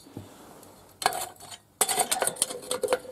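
At a hunting camp in the Komi forest, metal pots and a kettle clank and rattle in a few bursts of handling, close by, with short quiet gaps between.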